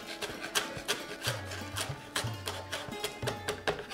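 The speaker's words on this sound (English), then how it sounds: "I'm going to finely chop this up." Knife finely chopping mint leaves on a board, quiet rapid rhythmic taps and scrapes repeating at close range.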